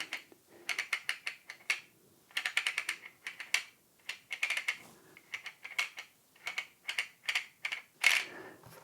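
Rapid bursts of ratcheting clicks from an adjustment tool while a Zwift Cog is fitted onto an HG freehub, coming in repeated close, crisp clusters with short pauses between them and no talk.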